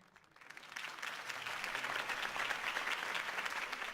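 A crowd at a political rally in the Batman video game breaks into applause that swells from quiet to a steady, dense patter of many hands clapping, heard at a distance without voices.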